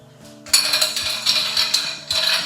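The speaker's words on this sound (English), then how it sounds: "now we're just going to stir this down over some ice" A bar spoon stirs a coffee cocktail over ice, making a steady, close rattle and clink of ice cubes against the mixing glass, with no voices.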